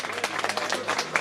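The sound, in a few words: audience applause for cycling team presentation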